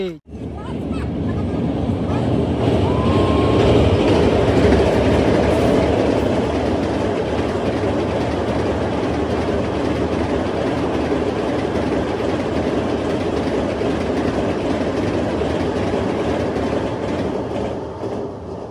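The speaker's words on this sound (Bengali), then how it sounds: "এখানে ট্রেন চলে গেল" A train rumbles past close by near a bridge over the Kopai River, its wheels clattering steadily on the rails for the whole stretch, with faint voices mixed into the noise.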